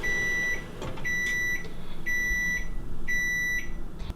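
A kitchen timer beeps in four evenly spaced, shrill electronic bursts beside a pot of beet-based imitation grape jelly cooking on the stove, with a low simmering rumble underneath.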